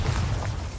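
Bombarda blast spell cast in Hogwarts Legacy on PlayStation 5, a short dense rumbling boom that fills the moment with low-end weight and no gaps.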